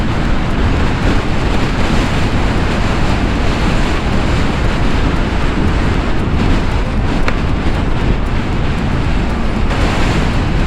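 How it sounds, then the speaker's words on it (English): Heavy crosswind gusts roar continuously into the microphone during an electric scooter ride (Bounce Infinity E1) from Kargil to Leh, a loud, unbroken rushing blast with no voices. "Heavy wind gust, very heavy wind gust."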